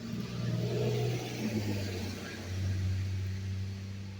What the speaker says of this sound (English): I'm going to let the truck pass again.